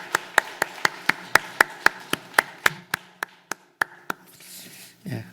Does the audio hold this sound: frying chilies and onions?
no